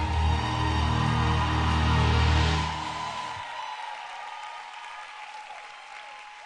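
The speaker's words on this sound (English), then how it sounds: "Ladies, with a standing ovation and a resounding applause, let's welcome to Grace the Made for More Conference of 2019, Mrs. Ibukun Awosika." A conference crowd rises in a standing ovation to welcome someone speaker, dense sustained clapping over music that stops partway, the applause continuing loud and then tapering toward the end.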